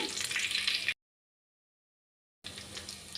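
Garlic and dried red chillies fry in hot tempering oil for sambar, giving a close, steady hiss and sizzle that cuts to silence for about a second and a half, then resumes.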